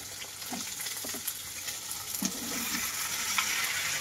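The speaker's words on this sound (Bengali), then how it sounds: "মাছ ভাজাটা চাপিয়ে দেবো।" Fish frying in hot oil in a wok, giving a steady, fairly quiet sizzle with a few soft pops and stirring clinks, and no voices.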